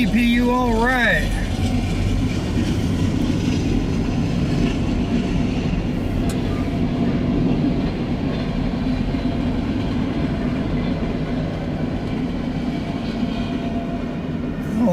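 A CSX freight train with double distributed power units rolls past close by, a steady rumble with rail clatter throughout and a brief horn-like tone near the start.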